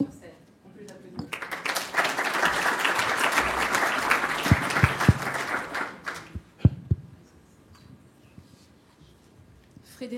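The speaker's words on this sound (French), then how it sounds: "On peut les applaudir." An audience applauds as two speakers join the stage at a French conference on neighbourhood energy and carbon, clapping swelling quickly, holding steady for several seconds and then dying away into scattered claps, with some talk underneath.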